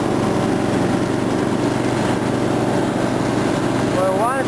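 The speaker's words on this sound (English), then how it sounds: "When we want to stop the mower" An Ariens rear-engine rider lawnmower runs at a steady, loud close drone throughout, with a voice speaking briefly over it near the end.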